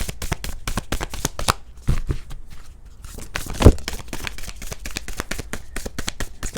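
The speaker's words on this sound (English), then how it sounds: "give them a good couple shuffles here" Tarot cards being shuffled by hand during a reading: a rapid, close run of crisp riffling and flicking card sounds, with a few louder snaps.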